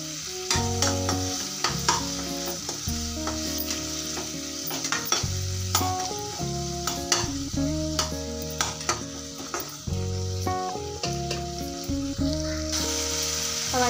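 Tomatoes sautéing in a pan for a dried fish curry, with a steady close sizzle, repeated stirring scrapes and clinks throughout, and a faint tonal hum underneath.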